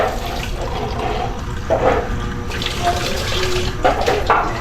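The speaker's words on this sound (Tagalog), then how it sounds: "halagyan ko din ng kaunting tubig mga ito para may sabaw-sabaw siya" Water is poured into a pot of pork lechon paksiw with okra, making a steady splashing, running-water sound over about four seconds with a couple of louder surges and faint background noise.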